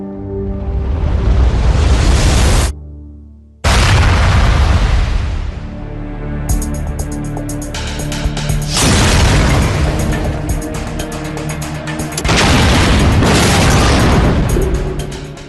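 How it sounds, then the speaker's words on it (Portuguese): Loud, sustained roaring blasts from dynamite explosion tests, one long rumble cutting off abruptly before another erupts, followed by further heavy booming bursts that swell and rumble through the whole stretch. "Houve experiências progressivas usando-se dinamite a fim de descobrir a extensão dos danos que determinadas quantidades de dinamite provocariam."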